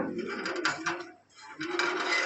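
Yellow Lahori pigeons cooing in a loft, a few soft throaty coos close by with a short pause between the phrases.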